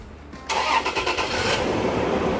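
A Toyota Tacoma engine cranks and catches close by, then settles into a steady, rough idle.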